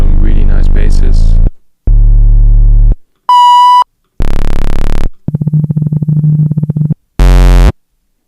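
No-input mixer feedback sounds, heard alone and loud as separate bursts: low buzzy bass drones, a pure beep, bands of broad noise and a gritty humming tone, each cut off by short silences.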